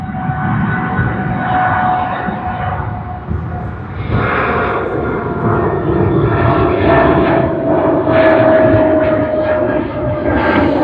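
A Qantas Boeing 787, flight QF6001, departs Sydney Airport, its engines making a steady, loud roar that swells and rolls on throughout, with no voices over it.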